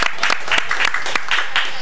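Studio audience on Cuban television applauds a singer on a talk show, uneven claps rising and falling under a voice talking.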